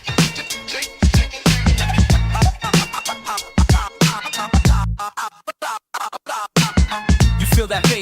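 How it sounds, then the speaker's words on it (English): Turntable scratches cut across a raw 90s East Coast hip hop beat, with a heavy kick and bass pulsing throughout, a brief near-silent break of sharp stuttered cuts, then the full loop returning loud. "You hear that scratch upon the track."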